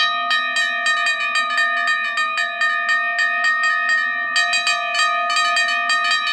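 An electronic railroad crossing bell at a wigwag crossing in a train crossing video game, its rapid even dings repeating steadily and loudly throughout with a short break partway.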